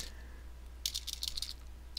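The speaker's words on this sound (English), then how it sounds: "I'm typing it up above the screen." Quiet clatter of fingers typing on a computer keyboard while a Python file is created and named, a short burst of soft key taps over a low electrical hum.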